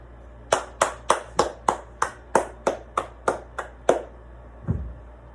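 A single pair of hands claps eleven times in a steady, even rhythm, close and crisp with short decays, in the setting of an awards ceremony; no talk accompanies it.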